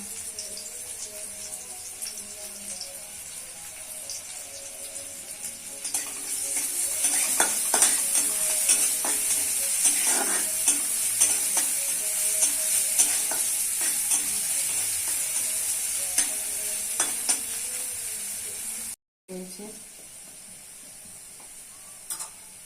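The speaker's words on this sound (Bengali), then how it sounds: "উনানে বসিয়ে দিচ্ছি পেঁয়াজ কুচি দিচ্ছি রসুন থেতো শুকনো লঙ্কা" Chopped onion, crushed garlic and dried chilli fry in a pan on a stove, a steady close sizzle that grows louder after a few seconds, with scattered stirring scrapes, a brief drop-out near the end, then the sizzle resumes more softly.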